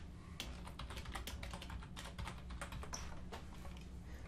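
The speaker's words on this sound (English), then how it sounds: "I typed in the name HR-Onboard to match everything else I've done." A computer keyboard is typed on in a quick, even run of light clicking keystrokes, close and fairly quiet, with no voices.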